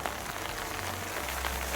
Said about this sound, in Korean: 아 비가 오잖아